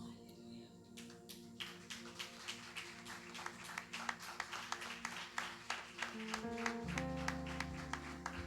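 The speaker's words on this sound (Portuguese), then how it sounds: "dando uma salva de palmas para o Senhor" A church congregation claps in a rhythmic, steady beat of many hands, roughly two claps per second, over a sustained background drone and held tones from music, fairly distant and continuous throughout.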